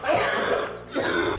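A person coughs twice, close and fairly loud, each a rough, husky burst with a short pause between.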